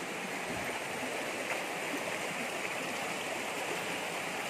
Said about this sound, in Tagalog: Ngayon po may falls. Yan po yung tubig niya.